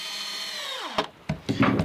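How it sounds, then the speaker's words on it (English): Power drill driving a screw into the wooden leg of an I-beam saw horse, a whining motor that winds down, then a few sharp knocks and handling sounds. "take a drill bit and I always go ahead and get one screw in here"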